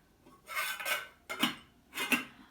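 A small steel soup pot clanks and scrapes three times, short ringing clatters of steel being lifted and set down, close and clear with quiet gaps between.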